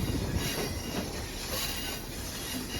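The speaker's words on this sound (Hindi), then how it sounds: "ये देखें आप, ट्रेन इस वक्त पहाड़ों के बिल्कुल दरमियान में आ चुकी है।" The Awam Express passenger train runs through mountains between Rawalpindi and Peshawar, a loud continuous rumble of wheels on track with faint clatter and squeal, heard from on board without speech.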